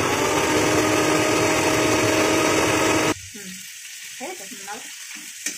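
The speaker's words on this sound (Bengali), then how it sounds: "চিংড়ি মাছটা ভাজা হয়ে গেল" Prawns fry in a pan with a loud, dense, continuous sizzle for about three seconds. The sizzle then cuts off abruptly to quieter background with a few faint clinks and scrapes. No speech.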